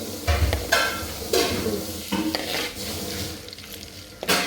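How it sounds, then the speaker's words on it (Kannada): Milk solids frying in hot homemade ghee, a steady crackling sizzle with a few scraping stirring strokes of a utensil against the pot, close and fairly loud throughout. "ಇದರಲ್ಲಿ ಅದರ ಗೊಜ್ಜಂಟಲ್ಲಿ ಇದ್ದದ್ದು ಫ್ರೈ ಆಗುತ್ತೆ."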